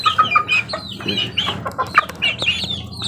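Healthy pet chickens cluck and chatter close by in a rapid, irregular series of loud, clear calls, the birds vocalizing continuously with no voices over them.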